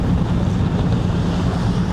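Strong wind buffets the microphone aboard a ship in bad weather on the Java Sea, over a constant rush of waves and water, loud and unbroken throughout.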